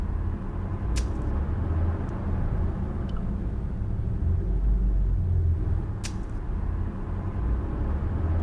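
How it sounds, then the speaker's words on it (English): Low, ceaseless city traffic drone in the video game Broken Sword: Reforged, a steady rumble of distant vehicles with a couple of brief faint clicks over it. "all I could hear was the ceaseless drone of traffic"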